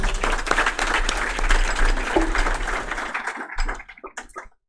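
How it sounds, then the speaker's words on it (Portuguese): Church congregation clapping in praise to the Lord during a doctrine teaching session, dense and loud applause with a low hum beneath, thinning into scattered claps and then stopping near the end. "Podemos aplaudir ao Senhor"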